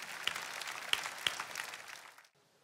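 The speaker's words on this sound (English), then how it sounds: "Once again, shall we clap for wonderful Jesus Christ?" A church congregation claps together in praise, a dense patter of hands with a few sharper accents, steady for about two seconds and then cutting off abruptly into silence.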